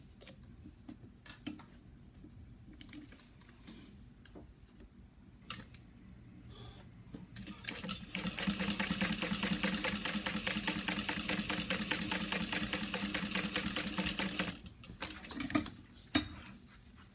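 A sewing machine basting fabric with long stitches at a length setting of about 5, running in one steady rapid stitching burst of several seconds after quieter handling clicks and rustles.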